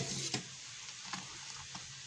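Freshly boiled milk is whisked in a pot for making yogurt, with faint, irregular light clinks and swishes over a soft hiss, quiet and close.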